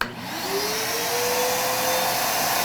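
A vacuum pump runs steadily while a large natural-edge wood bowl is vacuum chucked on a lathe, its whine rising slightly in pitch as it settles into a constant hum, loud and close with no talk.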